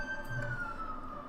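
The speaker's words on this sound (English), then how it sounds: "Oh, I just heard sirens." A police siren wails faintly in the distance, a steady high tone slowly falling in pitch over a low background rumble.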